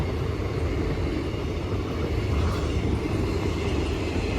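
A steady, rumbling roar of a passing passenger train, constant and loud throughout, with no voices.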